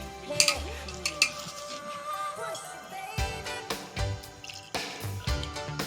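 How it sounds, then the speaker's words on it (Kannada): Batter for gobi manchurian being mixed with water in a bowl, with clinking utensil taps against the dish, wet stirring, and a few louder knocks close by, no talking. "ಇದನ್ನು ಹಿಂಗೆ ಮಿಕ್ಸ್ ಮಾಡಿಕೊಂಡು ಸ್ವಲ್ಪ ನೀರು ಹಾಕ್ಕೊಂಡು ಇದನ್ನು ಮಿಕ್ಸ್ ಮಾಡ್ಕೊಳ್ಳೋಣ"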